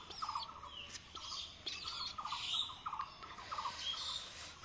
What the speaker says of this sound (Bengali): এটা আসলে পাখি না, এটা একটা কবুতর।